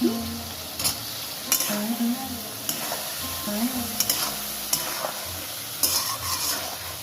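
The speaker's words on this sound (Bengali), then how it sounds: "এই যে আলুটা ভেজে রেখেছিলাম, আমি আলুটা এবার দিয়ে দিচ্ছি। আলুটা ওই মশলার মধ্যেই কষানো হয়ে যাবে।" Fried potatoes are stirred into a sizzling spice paste for a Bengali fish curry with potato and eggplant, the steady hiss of frying broken by repeated scraping stirs and clinks of a utensil against the pan.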